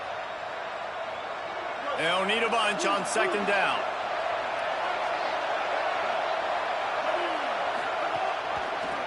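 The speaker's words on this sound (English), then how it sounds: "Man, this crowd really affecting the football game." A home crowd's steady, loud roar fills the stadium at a college football game between Colorado and South Carolina, a constant dense wash behind a commentator speaking.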